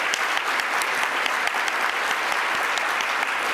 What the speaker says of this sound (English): So I would like to applaud her, Kathleen.